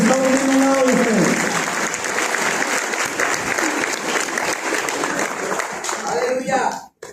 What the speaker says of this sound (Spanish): ¿Por qué no le dan un fuerte aplauso al Señor Jesucristo?